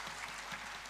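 Applause from the audience at Bəhram Nəsibov's 75th jubilee concert, a steady wash of clapping held at an even level for a second, with no voices over it.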